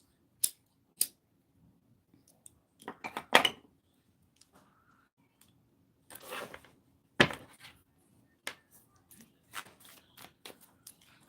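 Tarot cards being shuffled by hand at close range: short crisp bursts of riffling and card snaps separated by quiet pauses, with soft handling noises in between.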